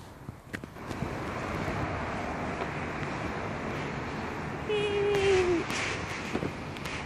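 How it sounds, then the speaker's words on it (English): Strong wind gusts outdoors in bad winter weather, a continuous roaring rumble that swells and buffets against the microphone with a few faint background sounds. "It's very windy!"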